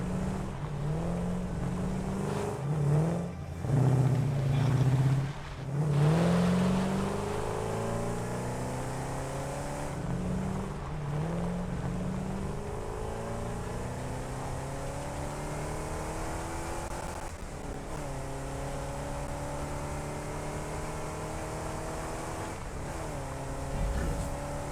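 A tractor vehicle in the video game Satisfactory drives uphill, its engine droning steadily with rising and shifting pitch throughout, loud and continuous, with a voice briefly speaking over it early on.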